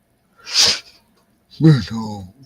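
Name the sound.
dog sneezing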